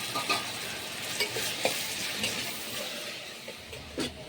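Masala and tomato frying in oil with a steady close sizzle, broken by a few soft stirring scrapes and spoon taps, moderately loud and with no talking.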